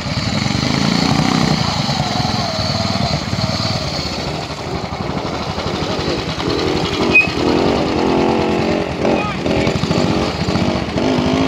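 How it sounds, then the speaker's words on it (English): A BSA C10 250cc side-valve motorcycle rides through a classic pre-unit trial at Keighley Gate, Yorkshire, with a steady, buzzing, mid-pitched engine note that rises and falls under ongoing talk. "Chris Bacon, 250, C10, BSA, side valve machine."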